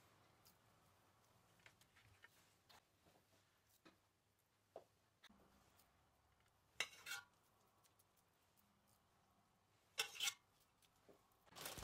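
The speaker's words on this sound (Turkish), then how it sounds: "hızlı bir şekilde helvalarımı dökmeye devam ediyorum" Halva is spooned and poured into serving dishes, heard as quiet scattered spoon clinks and scrapes against the dishes, with a few louder clattering bursts spread across the stretch.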